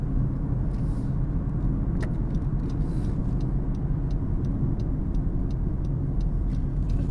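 A 2022 Honda CR-V Sport Edition cruises back roads on a cold day, giving a steady, low cabin rumble of engine and tire noise that holds level throughout, with no voices.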